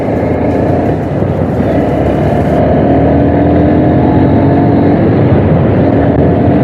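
A Honda Hornet 2.0 single-cylinder motorcycle accelerates hard, its loud engine note rising steadily as the revs climb, with heavy wind rush throughout.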